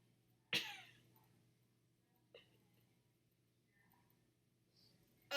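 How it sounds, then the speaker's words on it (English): A sharp sneeze bursts out in the background of a quiet room, followed by a softer second sound and another abrupt one at the end, faint and distant over low hum. "I have some sneezing in the background."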